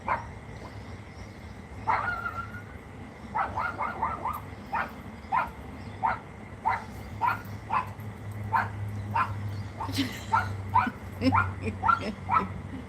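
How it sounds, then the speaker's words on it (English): A passing dog barks and yips in a steady series of short, fairly distant barks with some whimpering, over low background noise and a little talk. "here comes a dog"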